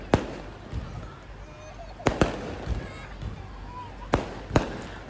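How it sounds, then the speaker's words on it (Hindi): Fireworks go off during a wedding baraat procession: several sharp, loud bangs, some in quick pairs, ring out over a busy background of crowd noise. "जश्न, आतिशबाजी।"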